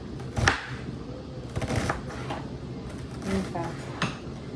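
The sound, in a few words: knife cutting an onion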